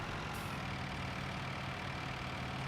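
A John Deere tractor engine idles in Farming Simulator 19, giving a steady, unbroken low drone with a constant rumble throughout and no change in pitch or loudness.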